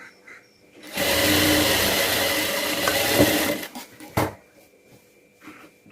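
A sewing machine stitches the lining of a one-year-old baby's net skirt in a steady, close whirring run of almost three seconds, then a short burst and faint handling noises follow.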